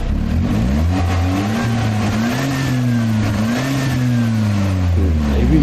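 A Nissan S110 Gazelle, an old car under restoration, revs its engine in steady swells, a loud continuous mid-pitched drone rising and falling without talk.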